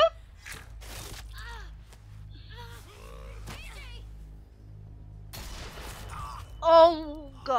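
Gunfire in The Walking Dead Season 4 video game, with several sharp bursts of shots spread across the scene and excited voices talking over them.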